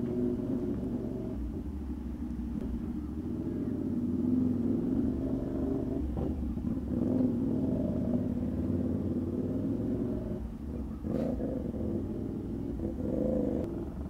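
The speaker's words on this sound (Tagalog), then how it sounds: "Traffic." Steady rumbling traffic and engine drone from a ride on a CFMOTO 450SR inline-twin motorcycle, a continuous loud wash with no talking.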